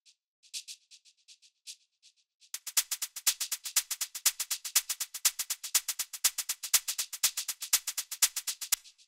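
Organic house shaker groove: a sparse, quiet shaker pattern for about two seconds, then a dense, steady run of bright, crisp shaker hits bounced by a ping-pong delay, with soft low thumps underneath.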